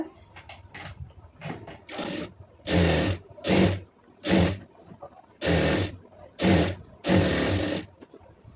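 A sewing machine stitches a folded quarter-inch hem on a ready-made net sleeve, running in about eight short bursts of steady whirring separated by brief pauses, close and fairly loud.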